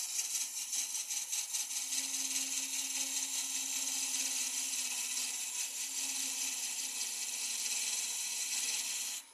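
A hollowing tool, an Osprey used like a bowl gouge, cuts a piece of wood spinning on a wood lathe, giving a steady, close scraping hiss with a faint hum underneath that runs without a break and then stops.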